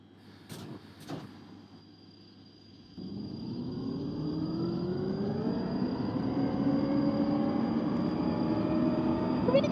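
A London Underground Northern Line train at Kennington, bound for High Barnet, in the simulator OpenBVE: a couple of door clunks over a steady hum, then the traction motors whine up steadily as the train pulls away, growing louder.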